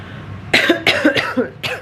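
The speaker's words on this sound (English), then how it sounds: "I've been coughing so much." Four harsh, close coughs in quick succession, each a short raspy burst with brief pauses between.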